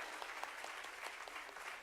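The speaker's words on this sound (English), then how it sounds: "Please give a huge round of applause." Students clap together in a steady, dense round of applause at a nursing teachers' association event in India. The sound holds moderate and even for the whole stretch, with no voices standing out.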